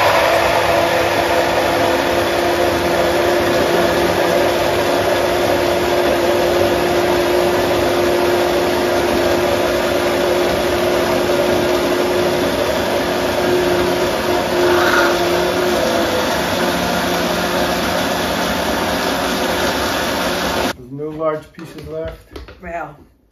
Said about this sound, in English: Blend in the remaining puree until no large pieces are remaining.